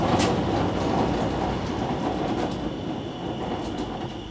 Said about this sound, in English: that sounds like a very noisy ring-in pinion, or bearings connected to the ring-in pinion